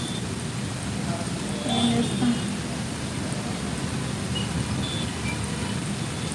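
Heavy rain pours down in Hyderabad, a dense, even hiss of drops on surfaces that holds steady throughout, fairly close and moderately loud, with no voices.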